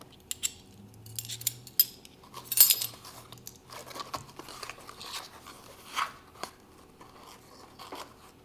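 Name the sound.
measuring and leveling 3/4 teaspoon baking soda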